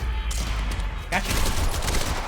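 Gunfire in the shooter video game Quantum Break, heard as a dense, continuous burst of shots and impacts with a mid-clip crack, loud and close.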